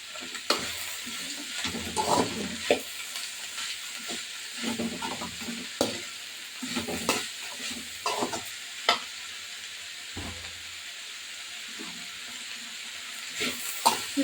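Vegetables stirred and frying in a pan for veg noodles, with a steady close sizzle and repeated scraping strokes of the spoon at irregular intervals, no talking.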